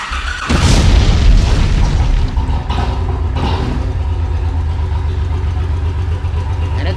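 A 2002-2004 Honda VTX 1800 motorcycle engine cranks and fires up loudly and close, a booming start that settles into a steady, deep idle rumble with a few brief blips.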